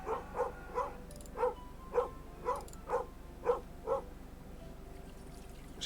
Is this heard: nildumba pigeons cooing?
no